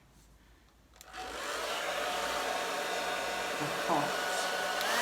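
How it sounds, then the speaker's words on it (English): Hair dryer on a very low heat setting blowing over a resin fluid art pour, a steady close whirring hum that starts after a second and runs on evenly, with a brief voice at the start. "I'm just going to get the dryer on that middle bit on a very, very low heat."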